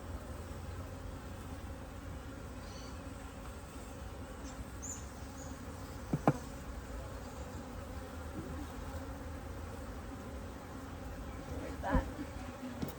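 Bees buzz steadily around an open top bar beehive, a continuous close insect drone with a couple of brief knocks from handling the hive.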